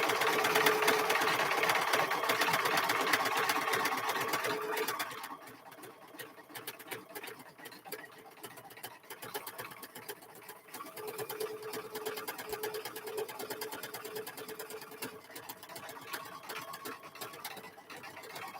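A sewing machine stitches out an embroidery design in a rapid, steady mechanical chatter, louder at first, then dropping to a lighter, even run with faint ticking.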